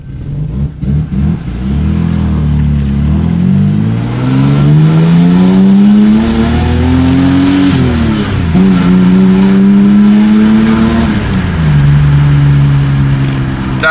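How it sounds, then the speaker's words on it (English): A Ford EF XR6 engine revs hard and close, its pitch climbing and falling in repeated sweeps, loud and alone, with a brief drop between revs. "I like how it revs though."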